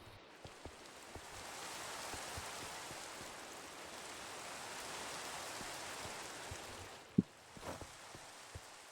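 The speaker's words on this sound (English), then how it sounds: "Why's the rain coming through the door?" Video game rain falling in the Minecraft modpack All The Mods 9, a soft, steady hiss of downpour with a few faint clicks and a sharper tap near the end.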